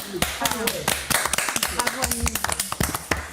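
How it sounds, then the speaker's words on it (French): A live audience claps at a theatre performance, a burst of sharp, uneven hand claps from a small crowd close by. "On applaudit."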